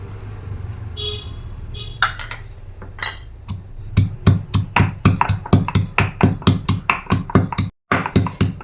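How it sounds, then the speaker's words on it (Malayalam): Ginger crushed for a pepper chooda dish. Softer scraping and knocks give way to a steady run of sharp, rhythmic pounding strikes, close and loud, with a brief pause near the end. "ഇനി കുറച്ച് ഇഞ്ചി നമുക്ക് ചതച്ചെടുക്കാം."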